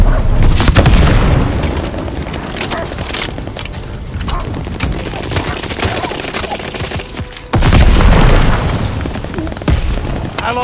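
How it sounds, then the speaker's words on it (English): Loud, heavy booms and a sustained barrage of blasts in a Call of Duty Vanguard multiplayer battle, with a fresh deep explosion hitting near the end over continuous rumbling combat. "Enemy's got a glide bomb incoming!"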